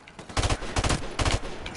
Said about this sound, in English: Oh, I shot.